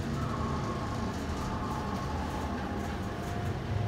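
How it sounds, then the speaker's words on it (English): Atlantic Coast hydraulic elevator in Savannah, Georgia, running loudly with a steady low rumble and mechanical drone heard from inside the cab, constant throughout. "Wow, this is a loud elevator."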